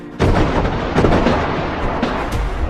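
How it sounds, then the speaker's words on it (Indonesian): A rapid series of loud, sharp gunshot-like bangs, dense and booming with rumbling echoes, fairly close, with no voices. "tembakan pun terdengar. Dentuman senjata api memecah keheningan malam."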